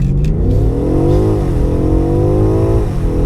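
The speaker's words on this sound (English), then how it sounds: "I'm just going to hold it on the brake, right foot down, and go." A 2019 BMW M5 Competition with 616 bhp launching hard from a standstill, its engine roaring loud and close with rising revs through one gear and a brief dip and climb into the next, with no talk.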